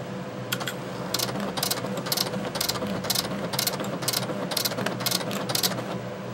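Commodore MPS-803 dot matrix printer printing from a Commodore 64, close rhythmic bursts of buzzing, rattling print-head strikes in quick repeated passes, steady mechanical whir underneath.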